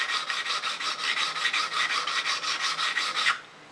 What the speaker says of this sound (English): you can take some of the scratches out from the file